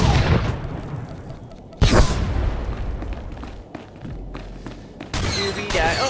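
Grenade blasts in the Star Wars: The Old Republic video game, with two heavy booming explosions, one after another, followed by rumbling battle noise.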